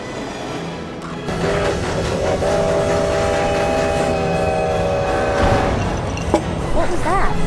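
A train rolls steadily along the rails with a continuous rumble and tonal hum, rising in intensity midway, with a brief sharp sound near the end.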